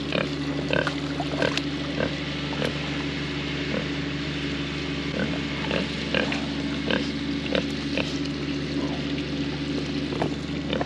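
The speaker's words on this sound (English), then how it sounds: "Crazy little piggies." Pigs grunt and oink in a hot field, giving frequent short snorts over a constant engine-like hum, close and fairly loud.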